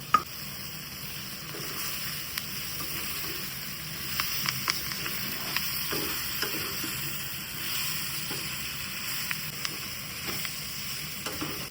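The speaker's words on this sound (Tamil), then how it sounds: "இப்போ மஷ்ரூமை சேர்த்து நல்லா மிக்ஸ் பண்ணி நல்லா வதக்கி விட்டுடலாம்." Mushrooms sauté in a pan with curry leaves, giving a steady, close sizzle broken by light scraping stirs; no voices.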